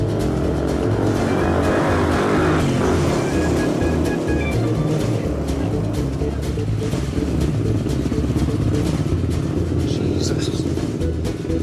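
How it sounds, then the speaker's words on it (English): A motorbike engine in Brazil gives a continuous low rumbling drone with a rough, fluttering texture, close and loud, holding steady for the whole stretch with a broad wash of road and wind noise over it. "He's going to pick me up on his motorbike."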